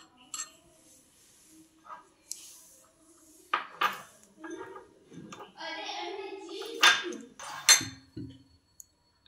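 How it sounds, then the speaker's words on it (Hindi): A spoon mixes powder and honey in a small container, making intermittent clinks, taps and short scraping strokes close by, separated by quiet pauses. "इसको चम्मच की सहायता से अच्छी तरीके से मिला लेंगे"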